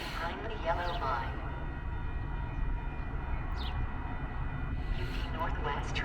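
A METRA Union Pacific Northwest commuter train arrives at the Mount Prospect station, a continuous low rumble of railcars with brief higher squeals and tones over it, while a station announcement voice talks over the noise.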